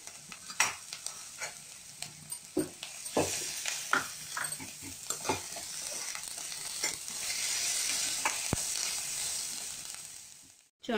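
Tomato pieces stirred and fried in a pan for samosa filling, with steady sizzling and repeated scraping stir strokes throughout, loud and close, no talking.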